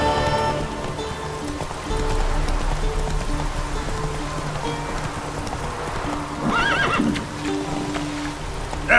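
Roach, a horse in The Witcher 3, whinnies loudly near the end over steady trotting hoofbeats, with a rainy, flowing-water ambience and game music running throughout.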